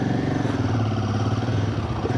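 A Royal Enfield Himalayan motorcycle engine runs with a steady, close, low thumping drone, heard alone without talk.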